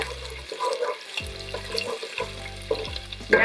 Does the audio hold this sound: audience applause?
no